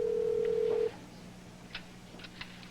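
A telephone handset gives a steady dial tone that cuts off, followed by a few faint, separate button presses or clicks in a quiet indoor room, with no voices.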